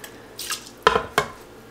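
Water is poured into an Instant Pot holding rice, with 2.5 cups of water going over 2 cups of rice. Close, splashy plops and drips come in three distinct bursts over a quiet background.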